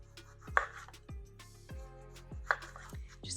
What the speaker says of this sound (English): Then we will chop our tomato.